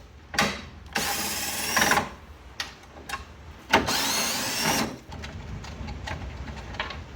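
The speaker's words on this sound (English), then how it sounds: "This one's a little tight, so I'm gonna use a ratchet to take it off." A ratchet and tool work on the headlight screws of a 1994 Chevy K1500, heard as several short, close bursts of buzzy clicking separated by brief quiet pauses.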